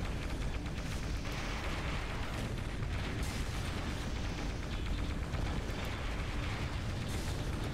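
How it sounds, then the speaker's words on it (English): Fuel tanks blowing up in the combat video game Gun Metal, a dense continuous roar of explosions and rumbling blasts that stays loud and steady throughout, with no talking over it. "you blow up the fuel tanks. You destroy everything right next to them"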